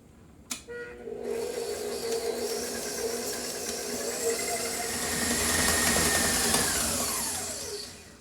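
An electric mixer beats butter, sugar and egg yolk for gluten-free cookies. A click is followed by a steady, close whirring motor hum that rises and shifts pitch as the mixture thickens, then tapers off.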